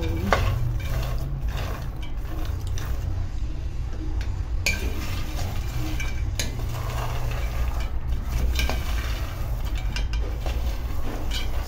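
Peanuts being stirred as they roast in a pan at home, a steady dry rattling and scraping of nuts against the metal with repeated clinks of the stirring utensil, close and continuous throughout.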